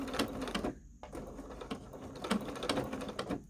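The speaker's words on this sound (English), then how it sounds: "always start with the straight stitch and back stitch to secure your" A sewing machine runs a straight stitch and then a back stitch on a fabric face mask, giving a close, fast rattling hum in short bursts with brief pauses as the direction changes.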